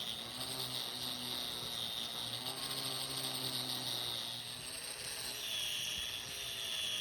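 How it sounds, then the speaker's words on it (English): An angle grinder shapes a round white oak base for a 60-inch dining table, a steady high whine with a continuous abrasive hiss that holds without pause, moderately close. "So we went back to the grinder, kept messing with that, and really started to take a good shape."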